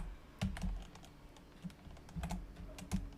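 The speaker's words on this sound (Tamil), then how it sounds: "இதை நான் வந்து டைப் பண்ணிடுறேன்." PHP code is typed on a computer keyboard, with irregular bursts of close, crisp key clicks separated by short pauses.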